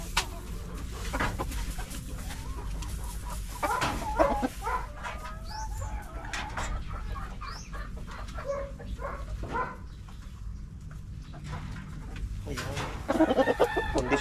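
Gamefowl roosters cluck and call in chicken coops at a farm, with repeated near and mid-distance bird calls scattered over steady background noise and occasional talk.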